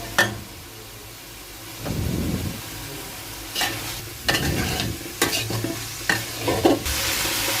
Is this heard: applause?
no